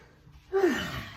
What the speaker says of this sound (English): So we're gonna start that diaphragmic breathing.